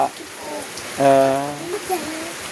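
Steady rain patters over the background as a voice briefly speaks or calls out in the middle.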